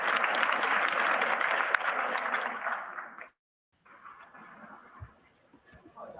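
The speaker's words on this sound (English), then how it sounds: "That was not a large applause." Applause from an audience at a news and commentary broadcast, a moderate burst of clapping for about three seconds that cuts off abruptly, followed by quieter room noise and a few faint knocks.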